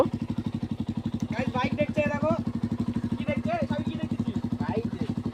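A motorcycle engine idles close by with a steady, rapid low thump that runs through the whole clip, while people talk over it.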